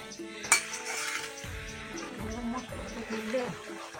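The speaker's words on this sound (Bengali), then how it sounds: "এখন মা একটু নাড়াচাড়া করছে" A spoon stirs fish curry in a cooking pot, giving soft scraping and clinking of metal against metal close by at low volume, with a sharper clink near the start.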